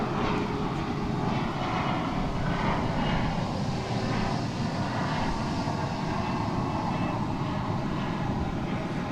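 An American Airlines jet rumbles at a distance at DFW Airport, a broad steady engine roar holding evenly across the whole stretch without any voices.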